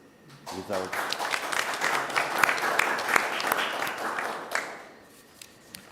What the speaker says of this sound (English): Ana Boneta, Meritxell Cuyàs, and Albert Gomà a round of applause as well, please.